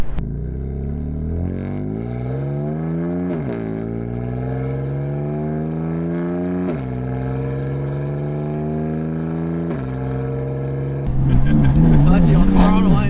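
A tuned BMW F80 M3 of about 500 wheel horsepower accelerates hard, its engine note climbing in repeated rising sweeps through the gears. A loud, rougher burst comes near the end.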